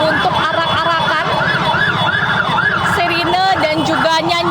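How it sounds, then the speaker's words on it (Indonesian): Wailing emergency sirens rise and fall repeatedly amid a street victory parade in Indonesia celebrating the national team's SEA Games 2023 win, loud and close over crowd singing and traffic noise. "Sirine dan juga nyanyian-nyanyian terus dilantunkan oleh masyarakat."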